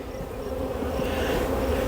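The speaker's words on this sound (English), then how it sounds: "the bottom box I can just see is just packed full of bees" Honey bees packed into a medium brood box hum in a dense, steady, close buzz that holds without a break.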